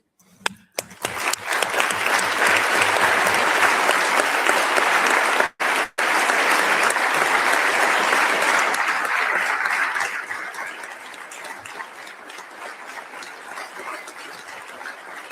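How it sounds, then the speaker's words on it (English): A large audience at a United Nations hunger report launch bursts into loud, sustained applause for farmers, holding a dense roar of clapping for several seconds before it tapers off into lighter, scattered claps. "So we need to give a huge applause to our farmers and people."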